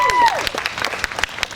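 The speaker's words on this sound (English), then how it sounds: "Another round of applause" A rally crowd claps for march organizers in a legislative building, scattered individual claps ringing out after a brief voice or whistle at the start.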